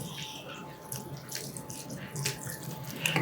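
A milk and milk powder mixture is poured into cooking carrot halwa, making a close, continuous liquid splashing and gurgling for a few seconds with no voices.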